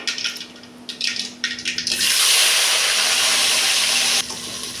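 Long strips of eggplant drop into hot oil in a pan and set off a sudden loud, steady sizzle that holds for a couple of seconds before easing slightly, preceded by brief scraping and stirring clatter.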